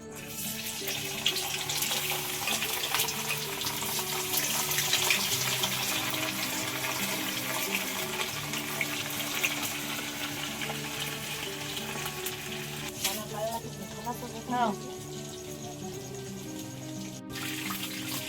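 A steady sizzling hiss of chicken roasting in a kadai continues throughout, close and even, with occasional clatters of stirring.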